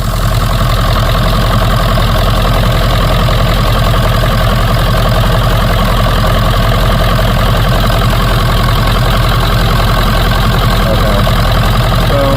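A 1996 Ford 7.3L Powerstroke diesel idling up close, a loud, steady low rumble with an even knocking clatter that holds for the whole stretch, no voices.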